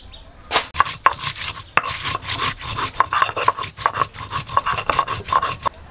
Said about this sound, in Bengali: এখন আমি গোলমরিচটা আর গরম মশলাটা বেটে নেব।